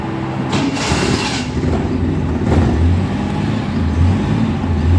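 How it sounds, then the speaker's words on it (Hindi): A car engine with a slow jet problem starts and is revved, its rumble rising and then dropping as the RPM falls, with the loud engine droning close by throughout. "इससे गाड़ी स्टार्ट हो गई है और अब जैसे ही रेस दे के छोड़ेंगे ये आरपीएम फ़ौरन गिरते हैं और गाड़ी बंद हो जाती है"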